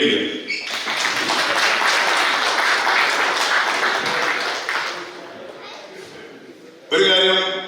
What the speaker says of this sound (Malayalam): ഒരു കൈയടിക്കുക.